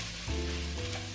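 Curry powder being mixed into vegetables frying for vegan coconut lentil soup, a brief close burst of sizzling with a low stirring rumble swelling partway through.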